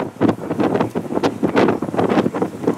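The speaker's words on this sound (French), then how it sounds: "car le vent ici est très puissant" Strong wind blows near a bridge, buffeting the microphone in loud, gusting roars that rise and fall continuously for the whole stretch.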